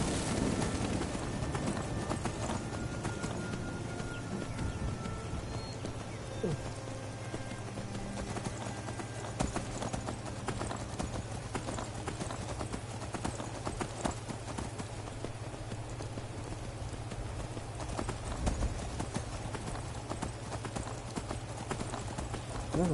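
Horse hooves gallop in a steady, fast clip-clop rhythm while riding through Skyrim, loud and continuous throughout, with a low ambient drone underneath.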